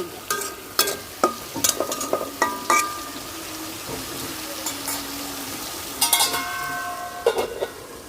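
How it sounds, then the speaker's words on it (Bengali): A spiced potato filling for singara, mixed with turmeric and chili powder, is stirred in a pan with a spoon, giving irregular scraping strokes and light clinks over a soft sizzle, with no talking. "সব মশলা আলুর সাথে ভালোভাবে মিশিয়ে নিছি"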